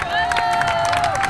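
A school Olympiad crowd in France cheers and applauds loudly for a winning team, dense clapping mixed with shouts and whistles filling the moment with steady energy.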